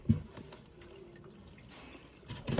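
Water dripping and splashing from a wet wool hat being squeezed out over a sink after washing, a couple of short splashy bursts at the start and end with faint trickling between, close and without talk.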